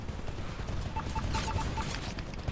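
Sustained gunfire striking the player in Titanfall on Xbox 360, a steady rattling barrage with a repeated beeping warning tone, loud and continuous throughout.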